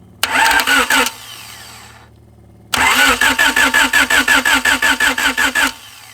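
A right-hand-drive project car's starter cranks loudly and close by: first a short burst of rapid churning, then after a pause a longer run of rhythmic cranking pulses, with no voices.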